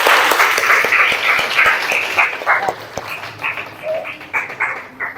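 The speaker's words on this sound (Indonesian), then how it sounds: "sebelumnya beri tepuk tangan dulu buat kelompok yang depan" Students in a classroom clap for the group presenting at the front, a burst of brisk, busy applause that gradually thins out, with sharp individual claps and a short yelp-like sound near the end.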